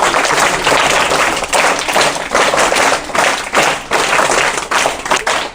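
Audience at a school felicitation event applauding the guest, loud dense clapping from a nearby crowd in rhythmic surging waves.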